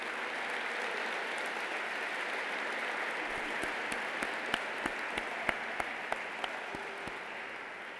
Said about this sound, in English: Please join me in a round of applause for all that they do for our students.